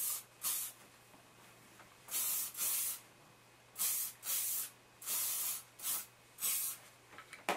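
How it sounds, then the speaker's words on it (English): Hairspray hisses onto curled hair in a series of short bursts, about eight sprays in quick pairs and singles, crisp and close with quiet pauses between. "So once you've done that, give it another spray."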